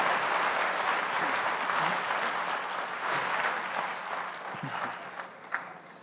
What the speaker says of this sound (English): Please give a round of applause to these great leaders.